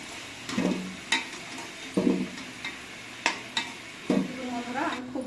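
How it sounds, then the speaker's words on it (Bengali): Potato pieces are lifted out of hot frying oil for a Bengali chicken curry. Irregular scraping and clinking of a utensil against the pan rise over a faint, steady sizzle, close and without voices. "আমি আলুগুলো এবার তুলে নেবো"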